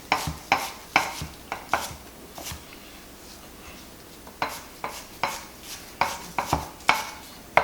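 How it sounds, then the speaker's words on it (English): A white sweet onion coarsely chopped by knife on a cutting board, sharp close knocks landing in uneven bursts with short pauses between them, no voices. "we're just going to coarsely chop these up"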